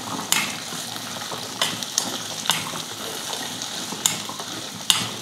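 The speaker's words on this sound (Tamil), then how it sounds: "ஒரு 2 நிமிஷத்துக்கு சின்ன வெங்காயம் வந்து நல்லா வதங்கட்டும்." Whole shallots sautéing in a pan, with a constant close sizzle and frying crackle and a spatula scraping and clicking against the pan every second or so.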